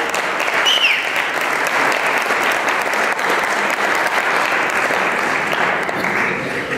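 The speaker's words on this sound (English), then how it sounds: "Give yourself a round of applause." A town hall audience in Sudbury gives a sustained round of applause, loud dense clapping from a large crowd holding steady for several seconds.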